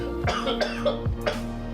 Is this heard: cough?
yes